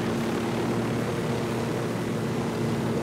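A helicopter in the video game Ghost Recon Wildlands gives a steady, close rotor-and-engine drone with a constant low hum, unbroken and alone for a few seconds.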